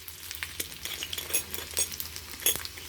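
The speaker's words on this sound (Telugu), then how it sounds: "నూనె వేడెక్కిందండి. ఇందులో ఫస్ట్ వెల్లుల్లి వేస్తున్నాను, తర్వాత ఎండుమిరపకాయలు వేస్తున్నాను" Garlic and dried red chillies sizzle in hot oil for tomato dal, a steady close crackle with a spoon stirring and scraping the pan at intervals.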